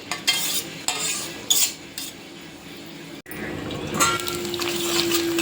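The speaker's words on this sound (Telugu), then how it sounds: "ఆయిల్ వేసుకున్న తర్వాత కొంచెం కాగిన తర్వాత ఈ ఆనియన్స్ వేసేస్తున్నా" Onions dropped into hot oil in a pan for a chicken curry, with scraping stirs and utensil clinks at first, then a steady sizzle that swells midway and continues close and fairly loud.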